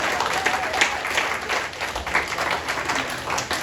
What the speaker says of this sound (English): keep it going for John Brown